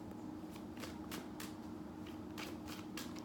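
Tarot cards are shuffled at close range in a quiet, continuous riffle, with soft repeated flicks and slides of the cards and no speech over it.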